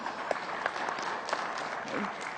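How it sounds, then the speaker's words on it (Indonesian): Audience clapping at a regional candidate debate, a short burst of moderate, fairly faint applause from a hall crowd, with some voices mixed underneath. "Saya boleh minta tepuk tangan untuk sesi yang pertama ini"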